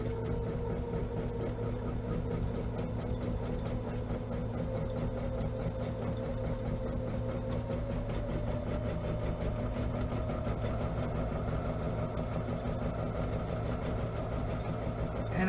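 A sewing machine runs continuously through free motion appliqué stitching on a cover, feed dogs dropped, giving a steady, fast, even mechanical whir close by with no pauses.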